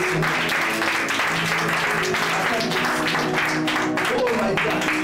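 A church congregation applauds in praise, producing a dense, sustained wash of clapping at moderate distance, mixed with voices and a tonal musical backing throughout.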